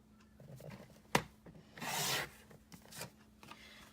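Card stock is cut to size for a tri-fold card, with a sharp snap followed by a longer scraping slide of the cutter through the sheet and a few lighter rubbing sounds, close and quiet.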